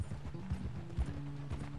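Horse hooves clip-clop at a relaxed walking pace in the Western video game Red Dead Redemption 2, a steady near rhythm of soft thuds with faint tack and ambient sound and no talking.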